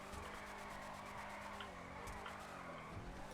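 Long drift car sliding in a racing video game, tires squealing over a sustained engine drone, steady and continuous without any talk.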